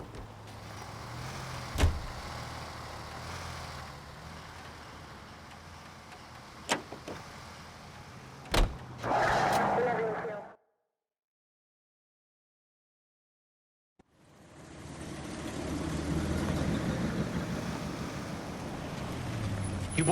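Car engine in the 1940s Los Angeles detective game L.A. Noire, a steady rumble with door and window clunks, a few sharp knocks, then a roaring burst before a silent gap and a sustained driving hum returning.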